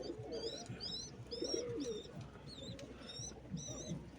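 Jira pigeon chicks give repeated thin, wavering squeaks in short bursts while adult pigeons coo low and soft underneath, close and fairly quiet, no talk.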